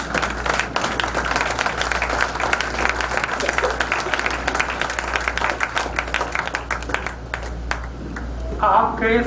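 Audience at a school scholarship function and principal felicitation gives a standing ovation, with dense, sustained applause from a large crowd holding steady for several seconds before thinning out at the end, while a voice briefly speaks near the end.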